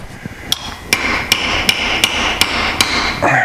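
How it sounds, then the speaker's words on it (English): Dowels being hammered through the split halves of a DoAll bandsaw gearbox case, seven sharp metallic hammer blows at a steady rhythm, close and loud, with no talk. "I'm trying not to pound these all the way through."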